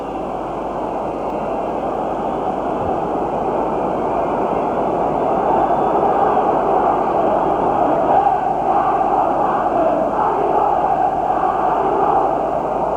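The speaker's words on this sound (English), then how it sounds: "The crowd certainly a little unhappy with the referee" A football stadium crowd at Manchester United v Juventus in the UEFA Cup roars continuously, a thick, loud wall of voices and whistles that swells slightly partway through, with no commentary over it.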